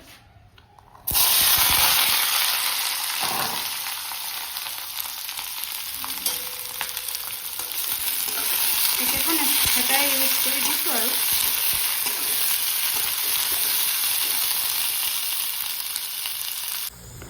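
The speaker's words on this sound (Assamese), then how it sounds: "সৰু আলু আৰু বিন ভাজিব লৈছোঁ এতিয়া" Small potatoes and beans fry in a hot wok with a loud, steady sizzle that runs almost the whole time and swells toward the middle. Brief talk sits over the frying and a few clinks come from stirring.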